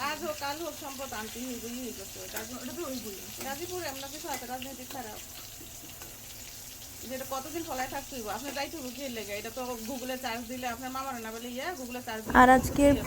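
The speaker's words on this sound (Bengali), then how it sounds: "ওই তেলের মধ্যেই পেঁয়াজ দিয়ে দিচ্ছে হালকা ব্রাউন করে" Onions fry in hot oil in a home kitchen, browning with a steady background sizzle. A voice talks over it throughout, and a louder clatter comes near the end.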